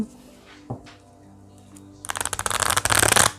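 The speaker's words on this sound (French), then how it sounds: "On va remélanger." Oracle cards being reshuffled by hand for a reading, a quick run of close, crisp riffling flutters that builds louder over the last second and a half after a short pause with a faint tap.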